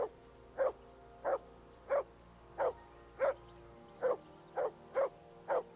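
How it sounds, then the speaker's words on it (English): A dog barks repeatedly in the video game Kingdom Come Deliverance 2, about nine evenly spaced, mid-pitched barks over a quiet background. "whistle at that mutt of yours to stop barking"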